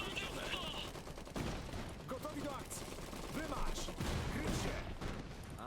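Gunners firing on infantry in the real-time strategy game Iron Harvest: repeated bursts of rapid gunfire and scattered shots crackle through the battle soundscape, sitting under steady commentator talk across the whole stretch.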